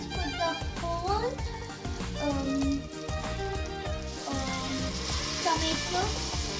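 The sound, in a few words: tomato paste frying with chicken and garam masala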